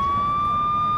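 A police car siren in a BeamNG multiplayer driving game holds a steady electronic tone throughout, loud and continuous over a rumbling engine-like background, with no speech.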